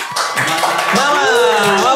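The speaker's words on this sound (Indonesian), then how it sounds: "tolong dikumpulkan dulu tepuk tangannya" A studio audience at a comedy debate show claps in a brief burst of scattered hand claps, heard under a person talking.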